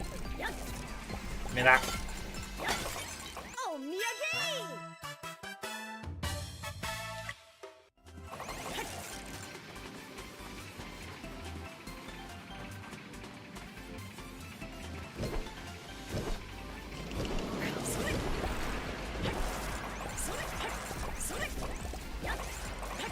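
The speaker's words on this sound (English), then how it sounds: "I knew I fucked up as soon as I heard the breaking glass sound." Glass smashing with a bright shattering crash in the Otogi Katsugeki Mameda no Bakeru video game, set among busy game music and effects, with someone speaking briefly.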